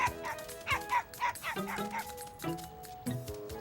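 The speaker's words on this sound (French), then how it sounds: "où est-ce qu'il est parti, le petit chien" A cartoon puppy yaps in a quick series of high, bright barks and yips over a soft animated-show music bed, with no talking.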